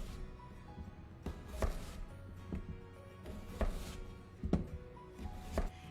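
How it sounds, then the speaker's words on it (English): A knife slices zucchini into quarter- to half-inch planks on a cutting board, giving about half a dozen close, dull thunks at uneven intervals over a quiet background. "So let's go ahead and make about a 1/4 or a 1/2 inch planks."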